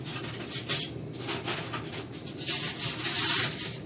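Metal cutlery clinks and scrapes while someone rummages through utensils hunting for a spoon, a close, continuous jangle of silverware that grows busier near the end, with no talking.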